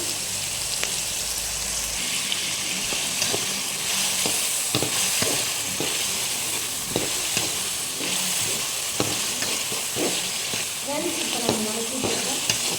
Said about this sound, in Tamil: நல்லா டீப்பாக ப்ரௌன் கலரில் ஃப்ரை ஆகி வரட்டும் ஃப்ரெண்ட்ஸ் ஆனியன்லாம்